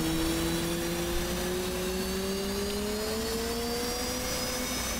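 An F/A-18C jet engine spooling up in the DCS flight simulator, a steady loud whine that rises gradually in pitch over a constant roaring rush, with no talk.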